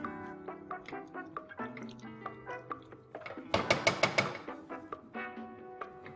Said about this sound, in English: At this stage, I would introduce in cold milk.